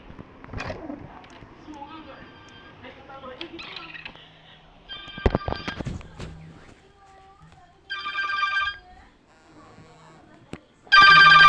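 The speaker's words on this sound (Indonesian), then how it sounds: "Pak, ada telepon." A telephone rings in the Roblox game Dead Rails, heard as bursts of bright electronic trilling that come near the middle and again loudly at the end, among other game sounds and scattered effects.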